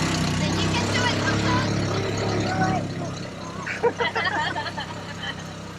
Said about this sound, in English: You can probably hear the tuk-tuk struggling.